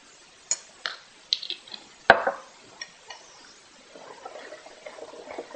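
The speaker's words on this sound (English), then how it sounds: "we're going to mix that really, really good with all the flour" Gluten-free pumpkin walnut muffin batter is mixed with flour and coconut sugar in a bowl, with a spoon clinking and scraping against the bowl in several sharp taps, then a softer, steady stirring near the end.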